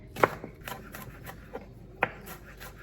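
An onion being finely chopped with a knife on a cutting board, a few sparse, separate blade strikes at moderate volume with quiet pauses between them.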